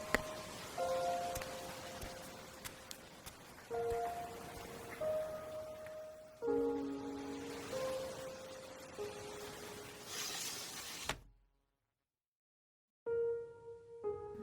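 Steady rain patters on a surface, a broad constant hiss with faint tonal sounds layered over it, then it cuts to near silence before quieter sounds return.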